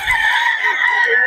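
A rooster crows at a live bird market in Bocaue, sounding loud and close with one sustained, strained call that holds through the whole moment.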